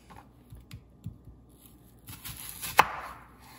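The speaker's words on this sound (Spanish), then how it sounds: "Las cebollas las picamos en cuatro," Onions being cut into quarters on a board, a few soft knife chops followed by one sharper, louder cut near the end, close and otherwise quiet.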